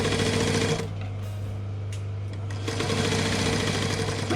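A sewing machine stitching fabric for a child's crayon roll, a steady loud mechanical whir and needle chatter that pauses briefly in the middle before running again, close up with no talk.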